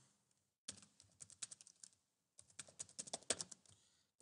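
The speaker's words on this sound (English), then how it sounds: "we're going to type" Typing footer text on a computer keyboard in presentation software: two quick, close bursts of keystrokes separated by a short pause, with no talking.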